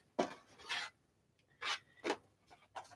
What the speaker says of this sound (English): I guess I better cut this white area off of this one so it'll fit in my trimmer